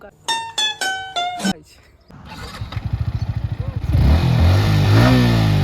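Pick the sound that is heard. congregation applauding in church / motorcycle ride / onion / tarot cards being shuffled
motorcycle ride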